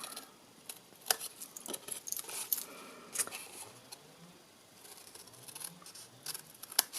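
Scissors snip through paper and card while a Hershey's snack table favour is made, a series of close, quiet cuts and rustles at an irregular pace, with no talk over them.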